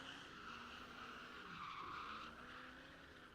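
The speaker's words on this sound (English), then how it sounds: "Getting that big old farm truck scooting." A big-block Ford F-250 farm hay-hauler truck drifting at a drift event, tires skidding and squealing in a continuous smeared screech over engine roar, heard from a moderate distance without talk.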